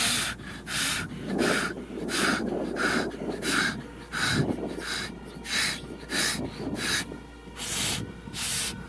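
Someone blowing repeatedly on a frozen rifle bolt to warm it, a series of about fifteen short, breathy puffs at a steady rhythm, close to the mic with a faint rustle between them.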